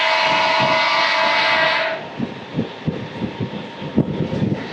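Aboard a Renigunta to Nandyal DEMU express, a loud, steady engine drone and rushing noise fade after about two seconds, giving way to rhythmic rail clatter and thumps as the train runs on.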